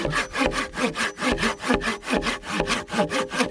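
Steady rhythmic strokes of a hand saw biting into dense wood over 20 cm thick on an island in Thailand, loud and close, about eight back-and-forth passes with no voices.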